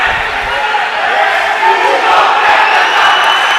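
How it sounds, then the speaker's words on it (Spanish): Atlanta fans at an indoor futsal match shout and applaud together, a loud, dense crowd roar that stays sustained throughout, with chanting voices blended in. "Pasaba el grito característico también de Atlanta, el aplauso de su gente que se ha acercado hasta aquí"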